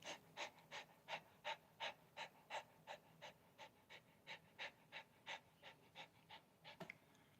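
A person imitates a dog panting: a long run of quick, even, breathy pants, about three per second, fairly faint and with no other sound.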